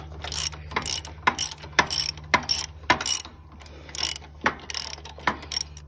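A hand ratchet loosens a bolt on a Cub Cadet engine in a series of close, sharp ratcheting strokes, roughly a dozen quick clicking bursts in an uneven rhythm, with no talking.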